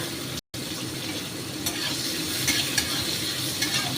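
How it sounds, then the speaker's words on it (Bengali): Eggplant pieces frying over a high flame with asafoetida and a green chilli, giving a loud, steady sizzle with a brief dropout near the start and a few stirring scrapes on top. "বেগুনটা ভাজা ভাজা করে হাই ফ্লেমে ভাজছি"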